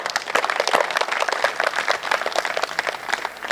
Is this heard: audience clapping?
yes